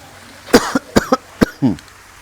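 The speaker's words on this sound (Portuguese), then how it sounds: "a tosse vai chegar, viu?" A person coughs in a quick series of short, dry bursts, five or six close coughs in a row ending in a rougher throaty rasp.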